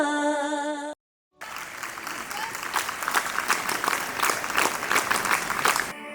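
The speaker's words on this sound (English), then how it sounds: "Let's give them a big round of applause" After a short tone and a moment of silence, an audience at an Independence Day celebration bursts into sustained applause for a performance, a full and even crackle of many hands that holds steady to the end.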